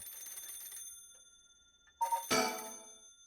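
Telephone ringing in the video game Paranormasight: a faint electronic ringing tone, then a louder, brighter burst of ringing near the end, with no talk.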